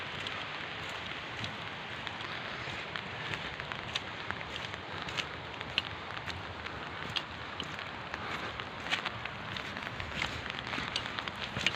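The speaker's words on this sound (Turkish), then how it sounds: "Şu an çok güzel yağmur yağıyor arkadaşlar." Soft, steady rain patters quietly and evenly on a village, with scattered faint drips and ticks over a hushed background.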